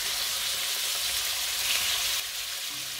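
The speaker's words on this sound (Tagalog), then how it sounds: "Prito lang siya ng mga ilang minuto. Hintayin lang natin mag-brown yung pork." Pork frying in a pan gives a steady, close broadband sizzle that holds throughout with no talk, dropping slightly in level near the end.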